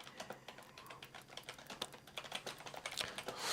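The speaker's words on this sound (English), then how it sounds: "I'm like typing so fast." Rapid typing on a computer keyboard, a dense run of quick key clicks close up and steady for several seconds, with no voices.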